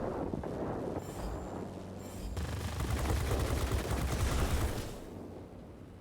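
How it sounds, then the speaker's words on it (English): Aircraft machine guns in World of Warplanes rattle in sustained bursts, loud and close, over a constant engine drone, with an F4F Wildcat strafing a warehouse complex before turning toward a P-40. "hoping I can destroy it with my guns"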